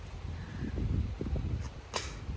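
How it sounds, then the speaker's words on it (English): A strong wind gust during a severe thunderstorm rushes and buffets close to the microphone in low, rumbling bursts, with brief sharp gusting noises in the short stretch. "I would say that was like a 35-mile-an-hour gust"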